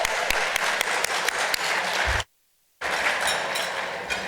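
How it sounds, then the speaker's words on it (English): Conference audience breaks into steady, dense applause filling the hall, the clapping cutting off abruptly into silence for a moment before resuming at full strength. "By a round of applause."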